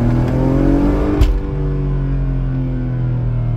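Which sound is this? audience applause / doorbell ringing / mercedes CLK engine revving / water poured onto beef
mercedes CLK engine revving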